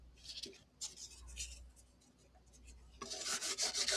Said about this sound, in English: A little light sandpaper here and 3000 grit.